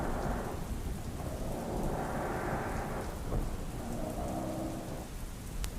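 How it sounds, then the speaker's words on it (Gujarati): Torrential rain pouring down in Banaskantha district, Gujarat, with water on the roads: a loud, unbroken hiss and patter of a heavy downpour, close and steady, no talking. "બનાસકાંઠા જિલ્લામાં મેઘો મુસળધાર બન્યો છે"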